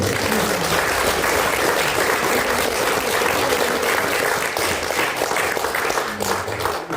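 An audience at a New Year talk concert claps in a loud, sustained round of applause that stays even for several seconds before easing slightly near the end.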